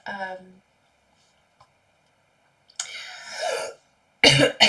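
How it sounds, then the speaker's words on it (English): A voice speaks briefly, then after a pause a long, rasping cough breaks out, followed by another harsh burst of coughing at the end. "Sorry for the coughing."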